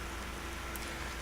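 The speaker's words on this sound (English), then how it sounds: "I guess we're walking in the rain" Rain falling in a video game gives a continuous soft wash of drops, constant and unbroken at a low level for just over a second, with no voices.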